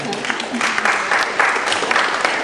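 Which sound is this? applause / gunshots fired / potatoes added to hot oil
applause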